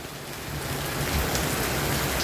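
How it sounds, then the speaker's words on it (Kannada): Heavy rain pours down near a house, a dense, loud, steady hiss of drops drumming on surfaces with no break and no voices. "ಹೆಂಗೆ ಗುಡುಗು ಬರ್ತೈತಂದರೆ ನೋಡಿ, ಫುಲ್ಲು ಜೋರು ಮಳೆ."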